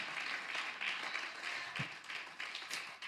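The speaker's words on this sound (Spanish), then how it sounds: "Dele un aplauso fuerte al Señor." A church congregation at a retreat applauds, a steady, fairly distant and soft wash of clapping that holds for a few seconds without a voice over it.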